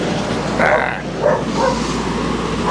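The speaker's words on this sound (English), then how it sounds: "Shut up, dog." A dog barks and yips a few times at moderate distance over steady road and engine noise on a rural road in northern Thailand.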